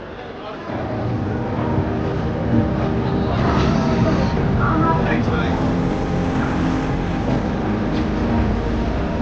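Heavy rumbling of a train pulling into a station, steady and loud, with a crowd's murmur and voices underneath.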